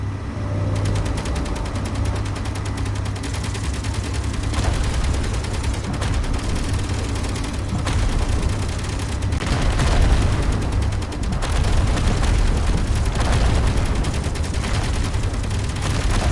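Automated turrets in the space-building game Space Engineers fire continuously, a loud, unbroken barrage of rapid gunfire and rumbling blasts that surges and eases over about sixteen seconds.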